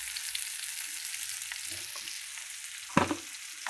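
Vegetable curry with chilli powder, turmeric and salt sizzles and fries steadily in a pan, with soft stirring scrapes and one sharper clatter of the spoon near the end.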